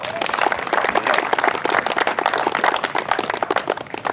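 Crowd applause at a 2014 high school baseball field dedication ceremony, dense steady clapping from a gathered audience lasting several seconds.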